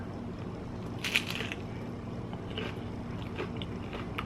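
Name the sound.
biting into a messy nacho supreme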